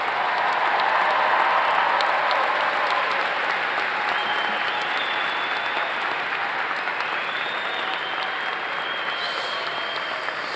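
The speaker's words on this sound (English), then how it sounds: "How about another big round of applause for all of our graduates today?" Sustained applause from a large audience at a fall commencement ceremony honoring graduates, a dense steady wash of many hands clapping at an even level throughout, with a faint murmur of voices underneath.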